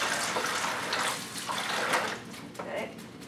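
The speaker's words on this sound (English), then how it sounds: "I'm going to run some water on it" Running water from a darkroom tap rinsing a photographic print, a steady broad splashing rush close by that fills the whole stretch.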